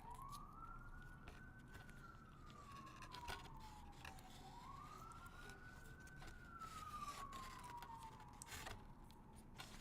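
Distant sirens wail on a New York street, two slow rising-and-falling sweeps carrying over a faint background rumble of city traffic, with no talking.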